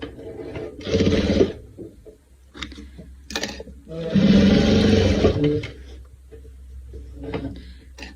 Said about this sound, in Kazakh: құрақтың үстінен бастап тіге беретін боламыз